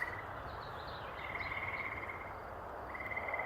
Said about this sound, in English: The frogs are having a nice sing.